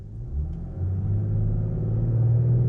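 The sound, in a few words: 2020 BMW X5 inline-six engine revving, turbo spooling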